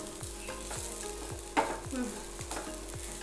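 Chicken fries in a home kitchen pan with a steady sizzle, and a spatula scrapes and stirs in a regular rhythm, close by with no talk.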